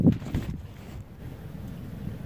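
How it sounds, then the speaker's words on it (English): Steady wind blows outside a hot tent during winter camping on the Appalachian Trail, a continuous low rushing roar with buffeting gusts and no talk. "It's quite windy."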